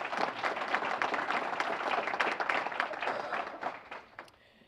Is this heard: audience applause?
yes